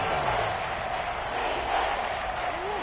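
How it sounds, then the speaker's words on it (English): A stadium crowd in a football video game roars in a steady, continuous wash of cheering ahead of a big third down, dense and sustained without breaks, with faint commentary voices mixed underneath. "The crowd getting into it as we come up on a big 3rd down."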